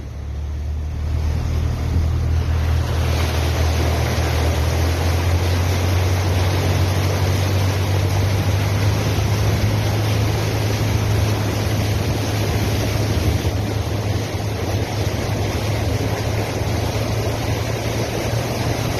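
A flooded river roars loudly and steadily with rushing water, broadband and unbroken, with a low rumble underneath and no voices.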